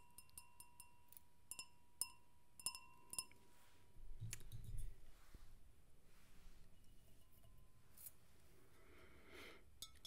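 A glass of cold sparkling water clinks several times, soft and close, with light taps over the first few seconds before quieter handling noises in a hushed spa room.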